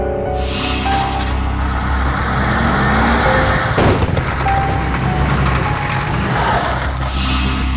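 A tow truck reverses with a steady run of loud electronic beeps over a low diesel engine drone, broken midway by a sharp hiss of air brakes, with a second hiss near the end.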